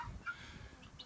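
Chickens on a homestead during a snow blizzard, making soft, faint clucking and squawking calls scattered over a steady low background rumble, with a few brief higher chirps near the end.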